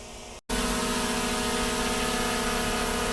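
A DJI Mini 3 Pro drone hovers overhead with a steady, loud buzzing whine of small propellers, broken by a brief dropout near the start, then holding continuously with no talking.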